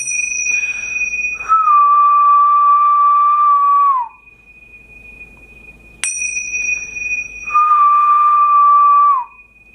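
A person whistles two long, steady sustained notes, each ending in a slight downward slide, separated by a pause, close and clear.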